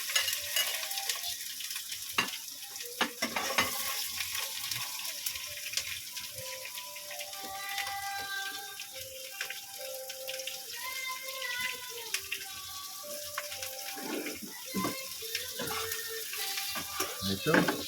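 Garlic and onions frying in a pan for pinakbit, a steady close sizzle with stirring scrapes, mixed with background music throughout.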